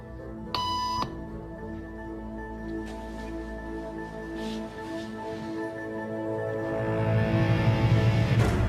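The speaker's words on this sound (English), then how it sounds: "After just 3 beeps" A single short electronic beep tone sounds near the start, followed by a long stretch of steady low droning hum that swells toward the end.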